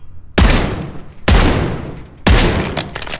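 The Jack Devastators guns in a video game fire three heavy blasts about a second apart, each a loud, sharp boom that trails off into a short rumble.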